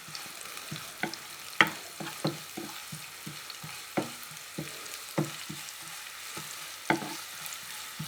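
Chopped onions fry in a pan for a cabbage stir-fry, giving a steady low sizzle broken by repeated scraping knocks and clanks of a spatula stirring, close and moderately loud.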